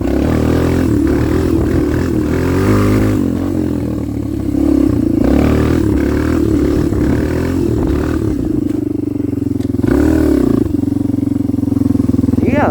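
A Kawasaki KLX 230R dirt bike engine drones loudly and steadily throughout, rising into a strong rev near the end, with the throttle held in high gear during a wheelie.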